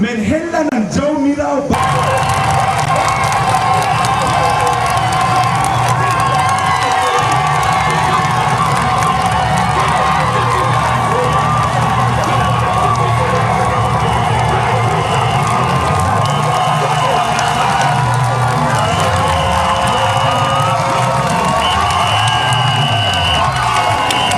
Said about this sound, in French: une acclamation pendant 2 minutes sans arrêt